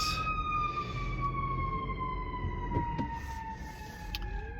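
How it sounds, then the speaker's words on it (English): An ambulance siren wails steadily with its pitch sliding slowly downward, fairly close and continuous, traffic rumbling underneath, in Los Angeles. "Whoa, an ambulance."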